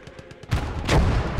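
Gunfire in the World War II strategy game Call to Arms - Gates of Hell, with German Luftwaffe forces facing Sherman tank columns: a few faint, quick shots give way to a loud, sustained burst of heavy firing and blasts.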